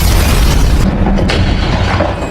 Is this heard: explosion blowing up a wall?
yes